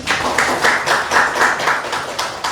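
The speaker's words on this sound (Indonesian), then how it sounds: "Kita beri tepuk tangan." A classroom of students applauds a classmate with close, fairly loud clapping that falls into a loose rhythmic pulse of repeated claps.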